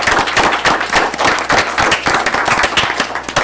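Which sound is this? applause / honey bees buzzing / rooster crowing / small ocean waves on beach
applause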